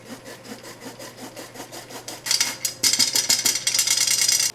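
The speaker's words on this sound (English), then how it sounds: "So you got to sift it." Flour is sifted for homemade cake flour, giving a rhythmic scratchy rasping as the sifter is worked back and forth, with steady strokes that grow louder and busier partway through. No one speaks.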